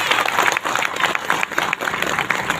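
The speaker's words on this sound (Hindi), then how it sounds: "जोरदार तालियों से" A rally crowd in Haryana greets former finance minister Captain Abhimanyu with loud, dense applause, a continuous roar of many hands clapping.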